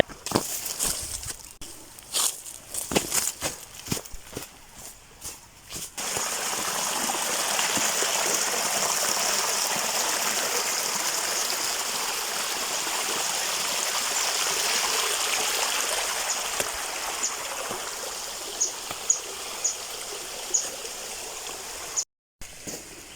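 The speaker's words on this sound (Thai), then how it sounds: "ยังลำธารอีกหนึ่งสาย" A forest stream flowing, a steady rushing and trickling of water that swells in the middle, with some rustling and clicks near the start.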